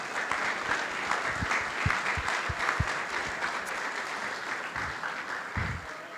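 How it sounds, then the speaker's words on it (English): A room full of guests at a community service heroes luncheon gives sustained applause, a dense, even wash of many hands clapping with a few louder claps near the mic, and no one speaking over it. "Let's give everybody a big round of applause."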